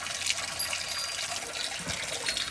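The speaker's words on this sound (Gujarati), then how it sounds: "પાણી ખાલી થઈ ગયું હતું, ભરાય છે." Water runs into an emptied container, giving a steady close splashing trickle throughout, with no talk.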